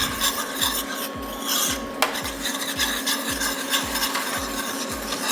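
A spoon circles steadily through a soy sauce and brown sugar sauce for crispy sesame chicken, giving a regular rasping scrape about twice a second, close and even, with no talk.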